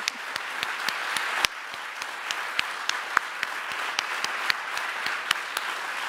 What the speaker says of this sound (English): yes, we can applaud that